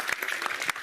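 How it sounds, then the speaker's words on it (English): Brief burst of applause at a conference forum, a crowd clapping steadily and fairly close for under a second. "Big round of applause."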